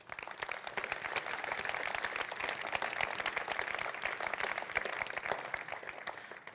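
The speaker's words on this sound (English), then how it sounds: "Maybe a round of applause for them." Audience applause at an InnoEnergy community event, a steady wash of many hands clapping that holds for several seconds at moderate loudness, with no voices over it.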